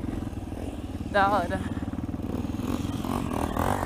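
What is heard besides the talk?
dirt bike motorcycle riding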